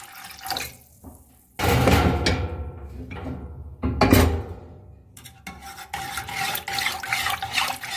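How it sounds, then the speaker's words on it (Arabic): Milk is poured into a thickening sauce for a gratin while it is stirred, heard as uneven bursts of close liquid splashing mixed with scraping stirring strokes, with short pauses between them. "غنعاود نزيد الحليب"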